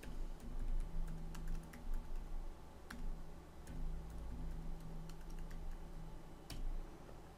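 Computer keyboard keys tapped while entering a password during a Windows Server 2016 setup, scattered sharp clicks in short irregular bursts over a steady low hum, fairly quiet, no voices.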